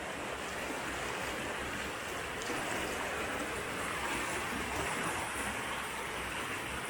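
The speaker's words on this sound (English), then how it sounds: "Just taking in a bit of the river." Water of the River Derwent rushing steadily in a continuous, broadband wash with a light wind roughness, close and even throughout.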